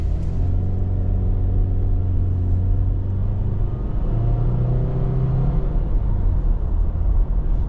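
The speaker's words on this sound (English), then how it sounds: "then we'll do our brake and acceleration test" A 2023 Subaru Impreza hatchback's engine rumbles steadily with a rising tone as it accelerates on a road, the drone loud and close throughout, with no voices.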